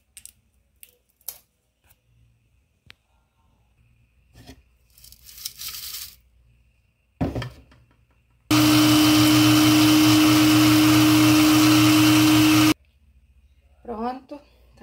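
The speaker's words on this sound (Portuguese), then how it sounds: "Vou colocar no liquidificador pra bater isso aqui." After some clattering and handling noises, a blender grinding eggshells roars loudly and steadily for about four seconds, a harsh grinding whir, then stops abruptly.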